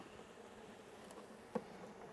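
Honeybees from a package being installed into a hive give a faint, steady low buzz, with a soft single tap partway through.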